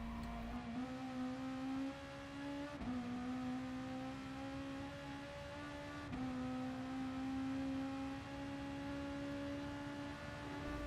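A race car engine runs at full throttle in Gran Turismo Sport on the Nurburgring 24hr circuit, a steady high-pitched drone that climbs through each gear, with brief dips at the shifts, moderately loud and alone.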